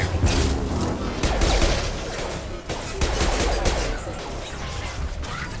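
Rapid bursts of automatic gunfire rattle continuously in a Mass Effect 2 firefight, dense overlapping shots with crashing impacts, loud and close with no pauses.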